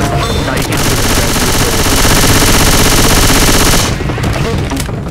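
Sustained automatic gunfire from the video game Left 4 Dead 2, a dense, loud, continuous burst of rapid shots lasting several seconds before cutting off, with game sounds underneath.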